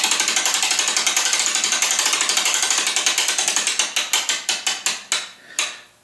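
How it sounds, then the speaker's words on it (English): Ollie Baker mainspring winder ratchet clicks rapidly and steadily at close range as a clock spring is wound, then slows into a few separate, louder clicks at the end. "you hold onto the barrel and you wind the spring fully. There's a ratchet here."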